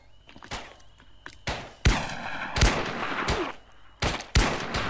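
Loud, sharp gunfire bursts from a multiplayer shooter game, roughly six separate shots or short volleys spread unevenly, each with a punchy low thump and a brief ringing tail, close and dominant with no talk over them.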